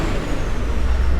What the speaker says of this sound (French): Là, j'attends que le camion passe.